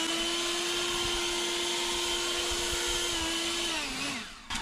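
A battery-powered leaf blower roars at full power, blasting gravel and dust, with a loud steady whine that holds, then dips and winds down at the end.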